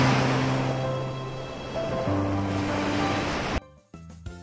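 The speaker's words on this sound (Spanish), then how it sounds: "el sonido de las olas está demasiado alto" Ocean waves wash onto a beach in a steady, loud surf roar, layered with sustained soundtrack music tones, until the sound cuts off abruptly near the end.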